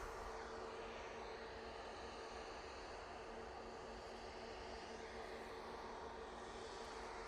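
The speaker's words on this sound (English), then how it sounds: "this is the Easyjet going off to Alicante" An EasyJet airliner departs Manchester for Alicante, a distant, quiet wash of engine rumble holding steady throughout with a faint whine riding on top.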